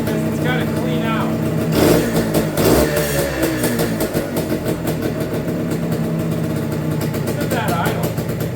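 A TS250 engine idles steadily while still smoking as it clears out, a loud continuous throbbing drone with a brief rise in the middle and faint voices at moments.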